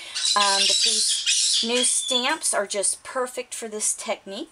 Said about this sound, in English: sorry if you hear my squawking birds in the background